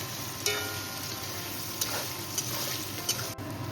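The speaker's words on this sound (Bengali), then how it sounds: "পেঁয়াজটা আমি ব্রাউন কালার হয়ে আসা পর্যন্ত ভেজে নেব।" Chopped onions fry in hot oil in a pan, browning for a mutton curry, giving a steady, soft sizzle with occasional stirring scrapes and no talking.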